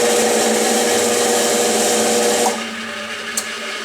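A drill bit spots a dimple in a new steel speed-control shaft for a Yates American B244 machine, a loud, steady whirring grind that cuts off abruptly near the end, leaving low motor hum and a small clink.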